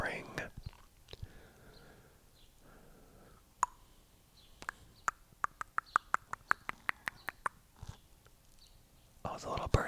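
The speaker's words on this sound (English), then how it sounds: "I hope you can hear that bird outside the window," A small bird outside a window chirps in a quick run of bright, evenly spaced notes, fairly faint and distant, amid soft whispering and quiet mouth sounds close by.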